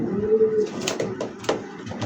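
A male racing pigeon coos close by, giving a low murmuring call followed by a few short soft bursts, with faint background noise.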